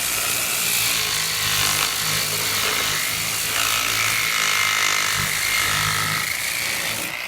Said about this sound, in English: Remember, random orbit disc sander.